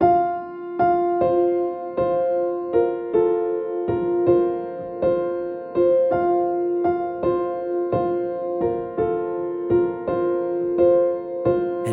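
A piano plays an easy arrangement of a song, with a steady chordal pattern of repeated notes and bass under the melody, close and alone.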